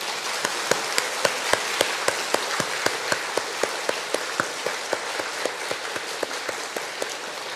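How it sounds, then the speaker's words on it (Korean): A church congregation at a small-group opening worship service claps for the men's group, a close, crisp and even rhythm of individual claps over a denser wash of applause, continuing steadily throughout. "참여한 남성들에게 우리 박수 한번"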